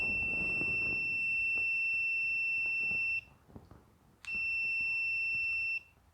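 Multimeter in continuity mode beeping across a new lawn mower safety switch for a John Deere LA145, giving two long steady tones separated by a short gap, with faint handling noise underneath.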